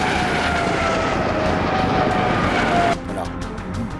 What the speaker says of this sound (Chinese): 雷达发现我上空有 A 军直升机过来